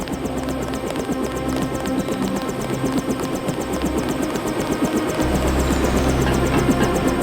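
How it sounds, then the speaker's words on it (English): A helicopter engine in the video game Deus Ex makes a steady, dense rotor and turbine drone with rapid rhythmic chopping, loud and continuous throughout and swelling slightly toward the end. "The helicopter is waiting."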